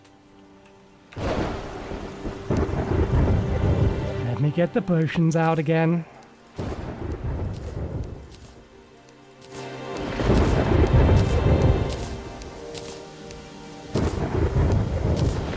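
Video game audio from Terraria Calamity: heavy toxic rain roars in bursts with rumbling thunder, while a person talks briefly over the storm.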